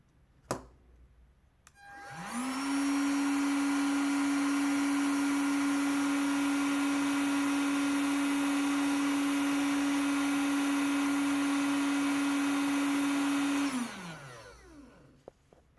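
Parkside Performance PPHLGA 20-LI A1 cordless heat gun switched on, its fan spinning up to a loud, steady high whine with a strong tonal hum, running evenly for about twelve seconds before winding down, after a brief click.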